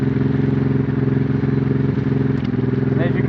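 A Honda Transalp motorcycle engine idling close by with a steady, lumpy mechanical throb and a faint clatter, unchanging across the clip.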